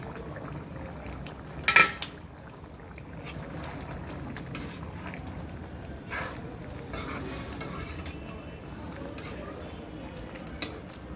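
A spoon scrapes and clatters in a pot of chicken curry with kath alu, ginger-garlic paste and black pepper cooking in oil, with one sharp metallic clank near the start and soft, quiet stirring rustle after it.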